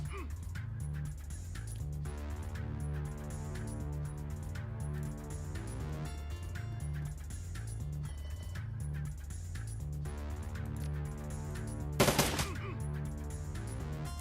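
Gunfire in the Shadowrun video game: a short, sharp burst of shots cracks out near the end over a steady backdrop of game music and overlapping voices.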